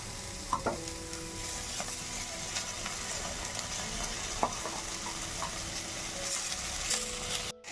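Greens with beans and eggplant frying in a pan give a continuous low sizzle, broken by a few clinks and scrapes of stirring over several seconds.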